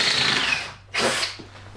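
A power drill backs screws out of a folding workbench in two short whirring bursts, close and fairly loud, separated by a brief pause.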